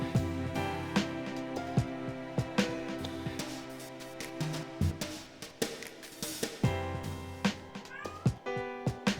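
A cat meows over and over, loud and close, its calls rising and falling in pitch against a steady, busy background.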